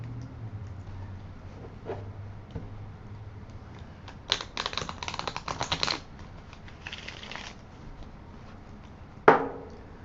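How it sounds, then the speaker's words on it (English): A burst of rapid papery riffling as tarot cards are shuffled, between quieter stretches of soft handling, ending with a sharp tap. "Let me shuffle the cards."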